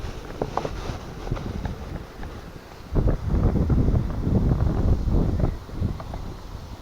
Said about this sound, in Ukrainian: Ох, а вітер, а вітер задуває